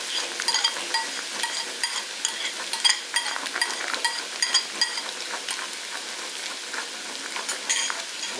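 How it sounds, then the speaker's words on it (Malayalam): Beaten egg sizzles and fries in a pan with raw banana while being stirred, steady close crackling broken by scraping stirs, with no voices. "നടുക്കോട്ട് നമുക്ക് ആ മുട്ട ഒഴിച്ചു കൊടുക്കാം. അപ്പൊ ഒന്ന് ഇളക്കി കൂടെ കൊടുക്കുക."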